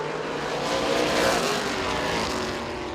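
Street stock cars racing on the Owosso Speedway oval, a dense continuous engine roar from several cars swelling slightly as they pass through the turns, loud and sustained with no talk.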